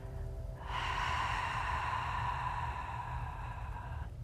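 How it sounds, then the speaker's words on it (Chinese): Slow, steady open-mouth breathing exercise, a long drawn breath of airy rushing sound that holds for several seconds at close range, alone without talk. "我们把嘴张开，吸气，呼气，缓慢的"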